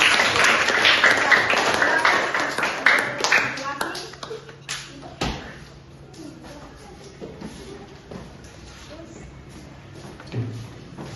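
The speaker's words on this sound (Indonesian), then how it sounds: "Kasih tepuk tangan, kasih aplaus untuk kelompok" Classroom applause for a student group at a teacher training session, dense clapping loud at first then thinning out and fading after about four seconds, leaving scattered taps and room noise with a voice speaking.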